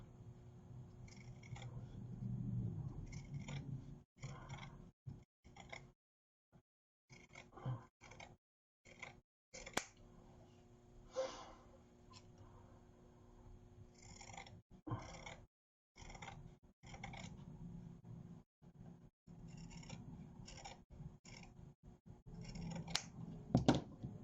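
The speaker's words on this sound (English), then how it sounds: "you want to cut on the inside of your pen mark" Scissors cutting fabric up close for a craft ornament, a quiet series of crisp snipping cuts in irregular bursts, separated by brief silent pauses.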